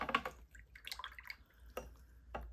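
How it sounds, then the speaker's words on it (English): A watercolor paint brush rinsed and swished in a container of water, giving a few soft, close wet drips and sloshes in quick bursts, with quiet pauses between them. "I'm going to go ahead and rinse my brush."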